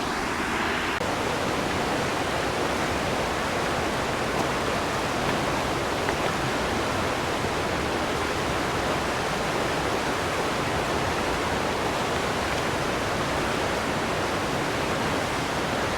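River water rushes steadily along Thunder Creek Trail, a dense, unbroken hiss of flowing current that stays loud and even from start to finish with no voices.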